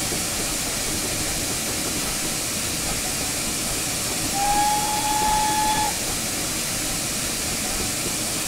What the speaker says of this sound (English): Lovely whistle.